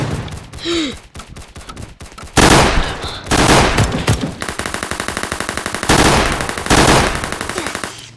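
Rapid sustained minigun fire in a video game, in long bursts, loud and close, with short pauses between volleys and a brief groan early on.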